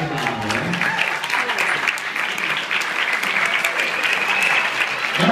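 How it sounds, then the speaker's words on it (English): Wedding guests break into loud, sustained applause at a reception toast, dense clapping filling the room steadily with a faint murmur of the crowd beneath. "Let's get a great big round of applause"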